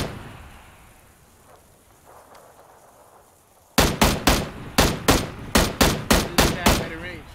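Burst of about a dozen sharp, loud gunshots in PUBG, rapid but irregular, after several seconds of quiet ambient background; no voices.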